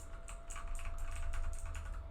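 Quick, light keys tapped on a computer keyboard in an irregular run of soft clicks, fairly close and quiet over a low steady hum, with no voices.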